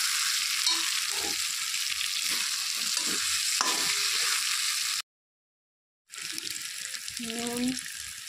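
Fried potatoes go into spice masala in a pan for a vegetarian paneer curry, setting off a loud, continuous hiss and sizzle, broken by a brief silent cut before the frying resumes with some tonal clinks.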